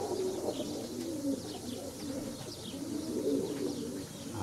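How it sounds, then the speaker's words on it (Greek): Pigeons, young squabs kept in a loft in Veria, coo in low repeated rolling phrases at moderate distance, a steady murmuring chorus with faint chirps above and no talking. "Αυτά είναι τα πουλιά που πετάξαμε πριν."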